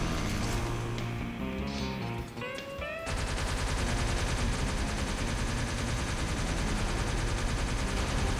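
The pulsar weapon fires in a fast, relentless stream at a boss in the shooter Wrack, a dense mechanical rattle that starts abruptly and continues at steady volume.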